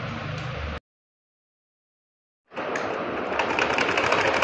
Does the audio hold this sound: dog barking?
no